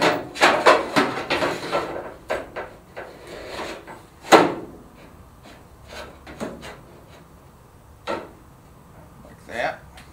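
A hardware part pushed into a wooden door, producing several sharp wooden knocks and clicks in a quick cluster, then a single loud tap and a few scattered softer ones, with a person talking throughout.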